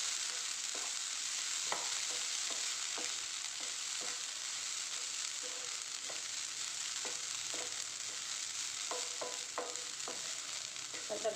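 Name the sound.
stirring onion and coconut stir-fry (ulli upperi) in pan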